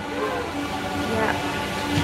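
An old train running in the Netherlands rumbles steadily from inside a carriage, with a continuous low roar and faint rail noise under a soft murmur of voices.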